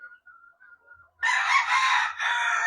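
A claret gamecock crows once, loud and close, a harsh drawn-out call after a few faint chirps.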